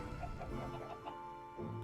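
Several chickens cluck in soft, irregular bursts at moderate distance against a steady low background hum, with no speech.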